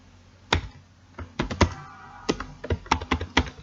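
Python code is typed on a computer keyboard in close, crisp bursts of key taps, irregular clusters of sharp clicks and thunks with short pauses between, no talking.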